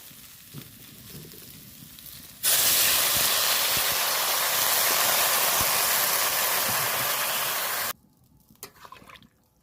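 Water poured into a simmering raw banana and fish curry sets off a sudden loud, steady hiss of steam that lasts about five seconds, then cuts off abruptly, leaving faint pan noise.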